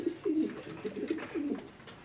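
Flying pigeons kept by a breeder in Daulatpur, Khulna, coo repeatedly in low, rolling phrases, close by and fairly soft, with no talking.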